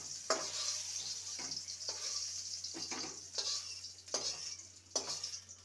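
Okra sizzles in hot oil in a pan, a steady bright hiss broken by about six louder scraping stir strokes, close and with no talk.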